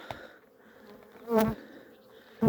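Honeybees at a beehive during queen rearing make brief close buzzing bursts, with one louder buzz passing in the middle and another at the end, over a quiet background.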